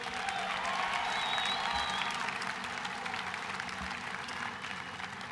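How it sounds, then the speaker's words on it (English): Arena audience applauds the Order of the Arrow members at a Boy Scouts gathering, a steady wash of clapping from a large crowd held at an even level for several seconds, with a few faint cheers mixed in. "Can we get a round of applause for all the Arrowmen in the arena?"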